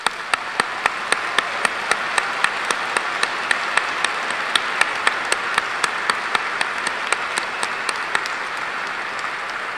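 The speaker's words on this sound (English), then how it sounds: "Give yourself one more final round of applause." Graduation ceremony audience applauding with sustained, dense clapping from a large crowd; steady and loud throughout, no voices over it.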